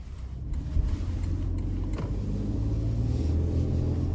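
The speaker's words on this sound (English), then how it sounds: "let's go ahead and take this 2025 Toyota Tundra out on the road for a test drive" A 2025 Toyota Tundra TRD Off Road with a twin-turbo V6 drives on the road. From inside the cab there is a steady low engine and road rumble, fairly loud and unbroken.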